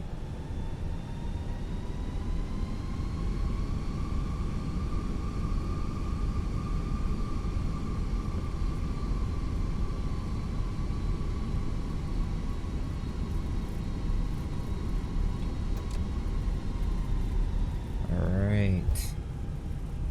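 Air France airliner engines on the Paris to Oslo route hum steadily while the jet taxis, a continuous whine with sustained tonal lines over broad rumble, ending in a brief burst of rising tones.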